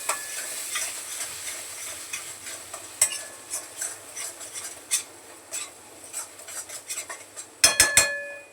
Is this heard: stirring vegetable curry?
yes